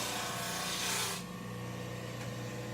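An oscillating spindle sander works small wooden parts, giving a steady loud rasping hum that drops to a lower whir partway through as the piece is lifted away.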